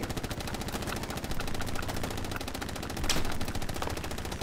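Rapid automatic gunfire in a multiplayer shooter video game, dense sustained bursts of repeated shots, loud and continuous with a sharper crack near the end, no talking over it.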